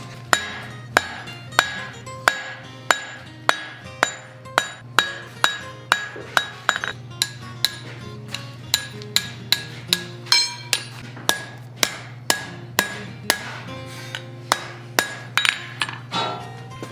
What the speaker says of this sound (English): I'm going to forge a point on either end